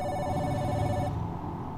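A telephone rings in the horror game The Dolls: Reborn, a loud electronic trill that sounds for about a second and then cuts off into a low background hum.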